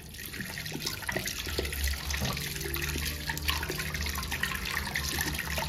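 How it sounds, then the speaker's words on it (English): Tap water runs steadily into a home sink while a child washes hands, a continuous close rushing splash throughout, with faint voices in the background. "wash your hands, Rio."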